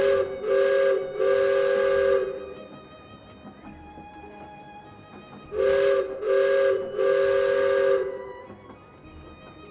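A train whistle plays as a sound effect during a Dungeons & Dragons game, two loud, steady multi-tone blasts near the start and two more after a quiet gap, each holding for about a second.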